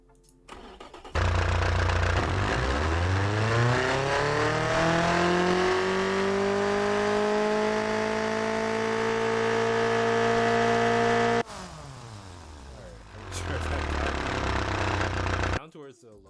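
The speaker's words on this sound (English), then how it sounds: "we're going to do a little dyno pull just so you guys can hear it" A car engine in the Automation game revs up through a dyno pull, loud and sustained, rising in pitch over about ten seconds before cutting off abruptly, followed by a quieter engine settling and surging again briefly.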